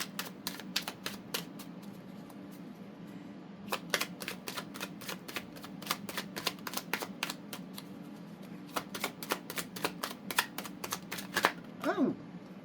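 Tarot cards riffle-shuffled by hand in quick clattering bursts, with several cards slipping loose and slapping down near the end, close and fairly quiet.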